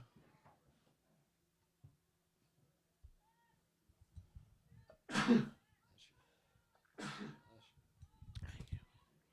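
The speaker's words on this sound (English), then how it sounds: "I apologize if anyone heard my sneezing." Quiet room with faint murmurs during a girls' varsity lacrosse game broadcast, then two loud bursts of sneezing a couple of seconds apart, followed by low muffled voice sounds.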